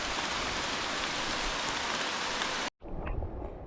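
Rain pours down during a storm on a Laurel Highlands hiking trail, a loud dense steady hiss close by that cuts out abruptly near the end, then resumes slightly softer.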